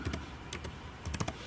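Keystrokes on a computer keyboard in a dark room, tapped in short clustered bursts of clicks with pauses between, fairly faint and without any talking.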